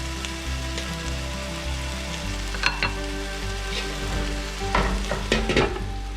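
Sausage for Japanese ketchup fried rice sizzles steadily in a hot pan, a continuous close frying hiss broken by a few scraping stirs toward the end.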